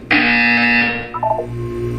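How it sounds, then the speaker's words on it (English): A loud, harsh electronic buzzer in the video game Portal 2 blares for about a second, then cuts off, followed by a few short chirpy game tones. "When you hear the buzzer, look up at the ceiling."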